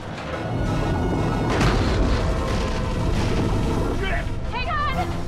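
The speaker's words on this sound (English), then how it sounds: "Fire torpedo." A torpedo launch and underwater explosion in a shark-versus-giant-octopus action film: a loud, sustained rumbling boom fills the whole clip, with a swell around the middle and metallic whines and effects near the end.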